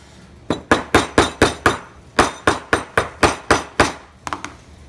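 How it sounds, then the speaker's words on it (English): A lock cylinder is struck repeatedly against a wood counter, giving about a dozen loud, close, evenly spaced knocks with a short pause midway and a few lighter taps at the end. "go over to a wood counter so that I can whack it"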